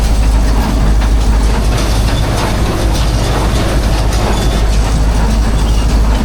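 A hay baler running steadily while baling hay in scorching +35° heat, the engine held near 1500-1600 rpm, giving a loud, continuous mechanical roar with a rapid rhythmic clatter close by and no voices.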